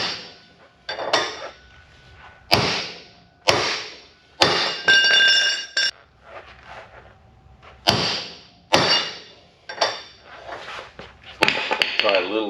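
A hammer strikes parts of a 1973 Jaguar XKE during restoration, a series of sharp metallic bangs at irregular intervals, close and loud, with a few ringing clinks between them.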